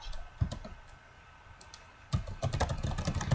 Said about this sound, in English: So I'm going to type in my email.